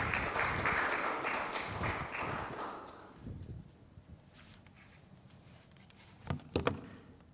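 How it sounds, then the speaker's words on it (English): Audience applause at a Norwegian Nobel Institute lecture on regional peace, a dense burst of clapping for the first three seconds that fades into scattered claps and quiet room noise, with a couple of sharp isolated claps near the end. "please give a big round of applause for Professor Taliaferro."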